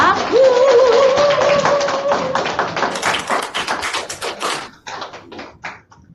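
Audience giving big applause to welcome businessman Kim Jeong-su onto the stage: dense rapid hand claps, loud at first and then thinning and fading out over about six seconds, with a brief voice near the start.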